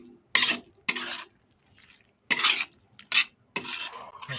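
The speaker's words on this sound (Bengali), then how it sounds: "এটাকে আমরা খুব ভালো করে মিক্স করে নেব মশলার সাথে, সয়াবিনটাকে খুব ভালো করে মিক্স করে নেব।" Soaked soya chunks scraped and stirred with spices in a pan, heard as several separate bursts of scraping against the metal with short quiet gaps between.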